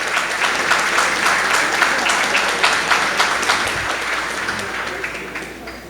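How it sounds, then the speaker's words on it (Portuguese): An audience at an evening testimony event applauds a guest, a dense, sustained round of clapping that stays loud and slowly tapers toward the end. "gostaria de uma grande salva de palmas de todos vocês"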